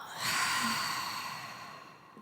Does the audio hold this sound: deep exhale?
yes